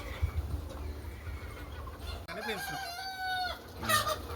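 Free-range country chickens cluck softly in the background before a rooster lets out a clear, loud crow in the second half, followed by more clucking.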